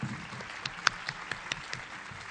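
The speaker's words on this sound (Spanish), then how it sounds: "Pido un aplauso para la licenciada Mariana Spradkin." Audience applause welcoming a speaker at a talk on preschool visual arts, a moderate wash of clapping from a modest crowd with a few distinct sharper claps standing out across the short stretch.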